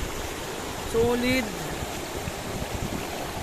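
Continuous broadband rush of a flowing river stream at a campsite, steady and close, filling the whole stretch, with a brief spoken word and a faint tonal sound partway through.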